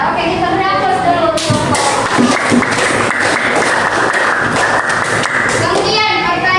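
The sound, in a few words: classroom applause for a student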